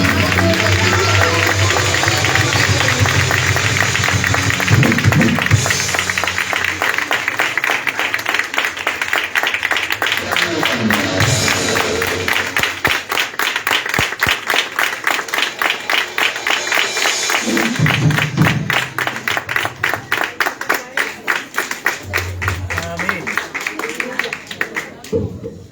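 Applause from an audience at a church youth worship meeting, a sustained wash of dense clapping that swells and continues for a long stretch, with a voice speaking over it at times.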